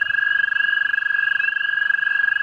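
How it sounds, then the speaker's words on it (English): Frogs and toads call in early spring, a loud, continuous high trill that pulses rapidly and evenly. It sounds close and carries on without any talk. "We got frogs, toads calling right now."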